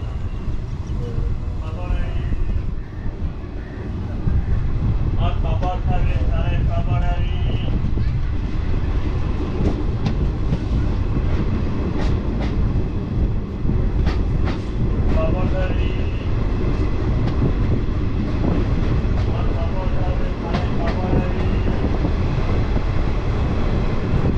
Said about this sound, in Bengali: এই টিয়া থেকে ট্রেন আবার ছেড়েও দিল